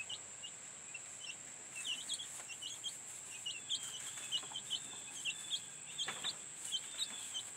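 Chickens clucking and calling inside a van converted into a coop, a steady run of short, fairly close clucks over a quiet background, with no one talking.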